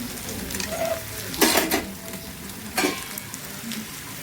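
Stuffed brinjal fries in a pan, giving a steady close sizzle broken by two louder bursts of spattering and faint pan clinks, with no talking.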